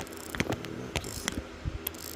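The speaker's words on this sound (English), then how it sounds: "Now I'm just hand tightening it with just regular ratchet" Hand ratchet snugging a valve stem on a Nissan 300ZX Z32, giving a few sparse, quick clicking pawl ratchets at close range with short pauses between them.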